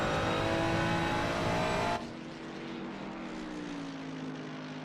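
Ferrari race car engine onboard at Spa in the Shooting Stars Cup race, loud harmonic engine roar that drops abruptly after two seconds into a lower, steadier drone with a gently falling pitch.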